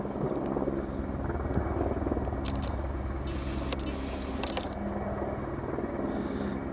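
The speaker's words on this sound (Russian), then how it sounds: "Вертолет где-то летит. Тут часто вертолеты летают." A helicopter's rotor thumps steadily in the distance over a forest near Murmansk, a continuous low rhythmic chop that stays fairly constant, with a few faint clicks and rustles nearby.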